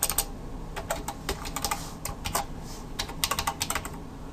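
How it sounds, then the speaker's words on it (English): Typing on a computer keyboard while coding a web page: irregular, close-up clicks and clacks of keys in quick runs and short pauses, with no voices. "And bear with my typing. I probably have the typing of a 6th grader."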